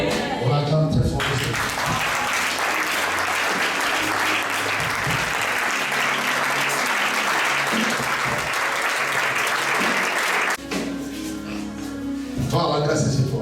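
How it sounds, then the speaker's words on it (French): A church congregation applauds loudly and steadily for about ten seconds, with voices heard before and after the clapping. "On l'acclame très fort."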